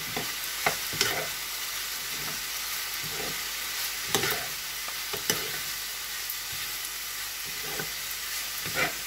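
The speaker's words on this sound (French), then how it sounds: "Je vais mélanger le tout" Cumin and red chilli spice mixture being stirred in a sizzling pan for lamb samosas, a continuous close fry hiss with intermittent scraping knocks of the spoon against the pan.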